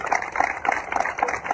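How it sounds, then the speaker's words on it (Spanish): Audience at a formal ceremony for a grill contest of asadores applauding the contestants, a dense burst of rhythmic clapping sustained evenly across the moment, fairly close and loud. "Sería lindo que todos los presentes le regalen un fuerte aplauso a todos los concursantes."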